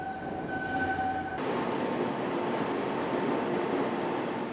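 A train rumbles loudly through Japan's Seikan undersea tunnel, 135 m below sea level, its roar swelling suddenly and holding as a dense, echoing wash of rail noise.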